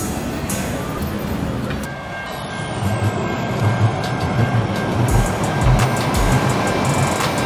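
Los Angeles Metro train at an underground station, a loud steady rumble with a high whining tone and repeated rhythmic knocks and clatters, suggesting a car moving along the platform.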